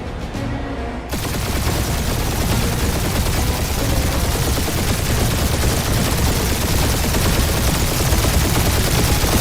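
Sustained gunfire rages in the video game Guardians of the Galaxy, starting abruptly after a quiet second and continuing as a dense, loud, unbroken barrage of rapid shots and booms.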